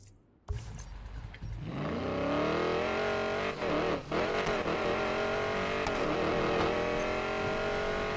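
A 1965 Ford Mustang engine in the video game Need for Speed Payback starts with a sharp burst, then revs and accelerates through rising gear pulls with brief dips between shifts, loud and close throughout.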